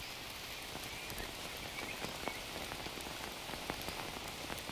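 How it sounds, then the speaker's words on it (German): Steady rain pours down in the jungle survival game Green Hell, a dense continuous hiss with scattered distinct droplet ticks, close and even throughout with no other sounds. "Der Regen hat natürlich nicht aufgehört."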